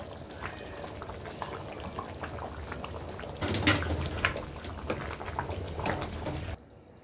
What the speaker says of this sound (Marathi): चांगली उकळी आलेली आहे।